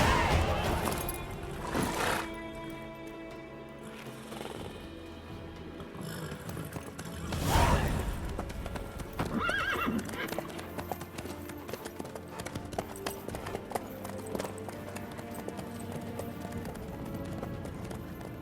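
Steady clip-clop of horse hooves runs throughout Witcher 3 gameplay, with the rhythmic footfalls continuing over a busy background of game sound and occasional louder swells.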